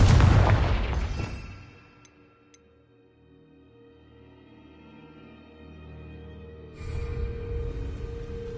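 A loud, close explosion from the Confringo spell in Hogwarts Legacy hits at the start and decays into a long rumbling tail, followed by quiet ambience and a second burst of noise near the end.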